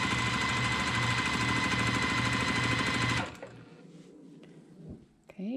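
A sewing machine stitches a quarter-inch seam on a quilt block, running close and steadily with a rapid rhythmic clatter for about three seconds, then stops, leaving soft handling noises.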